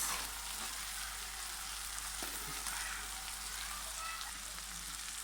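Fried okra and green chilies stirred together in a hot pan for a spiced bhindi dish, a continuous dense sizzle with a few faint scrapes and no talking.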